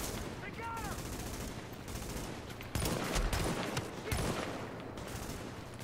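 Unsuppressed gunfire in The Division, a few sharp shots and short bursts ringing out over game ambience, with someone talking in between.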